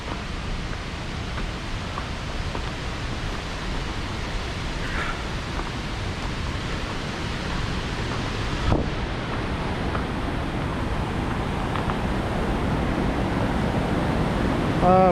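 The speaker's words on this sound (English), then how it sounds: "Wow, we made it to the waterfall. You can probably hear it." Steady broadband rush of a waterfall on the Middle Fork Snoqualmie River near North Bend, Washington, a constant roar filling the scene at moderate level, with faint outdoor rustle and no clear speech.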